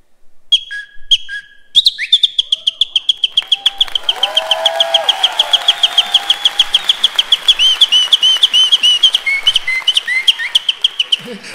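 A nightingale sings in the morning, loud and near, with rapid repeated whistled trills and clicks running in a fast rhythmic series.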